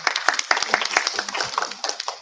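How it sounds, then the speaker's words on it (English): An audience clapping at a talk on psychotherapeutic modalities, a fairly close patter of individual hand claps that keeps going steadily without voices. "very good. Clapping."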